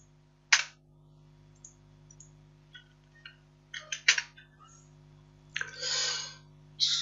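Keys on a computer keyboard are tapped while running disk commands to make a bootable Windows 7 USB drive, sparse close clicks and a few quick clustered strokes over a quiet, humming background.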